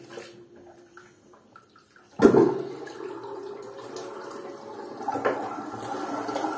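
A cold-water tap at a sink during a traditional straight-razor shave opens abruptly after a quiet stretch, then runs as a steady, close stream of splashing water that swells slightly near the end.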